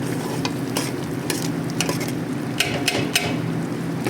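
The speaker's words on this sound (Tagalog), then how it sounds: "So lagyan na natin ng chili flakes. Kasi gusto nila na manghang. So lagyan natin ng manghang. Haluin natin." Chicken afritada being stirred in a sizzling pan, a utensil scraping at irregular intervals over a steady close frying hiss, with no voices.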